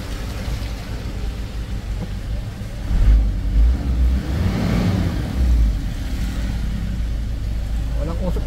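A Ford Everest engine runs steadily near the microphone, with a low, rough rumble that swells briefly as it revs and then settles back. People talk over it.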